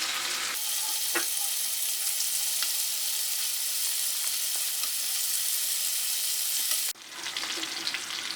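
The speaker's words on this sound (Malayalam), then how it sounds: "ഇനി അടുത്ത ഭാഗം നമുക്ക് തിരിച്ചിട്ടിട്ട് ഫ്രൈ ചെയ്തെടുക്കാം." Chicken pieces being turned and fried in a pan for chicken roast, a steady broadband sizzle with faint clinks and scrapes throughout, changing to a different texture near the end.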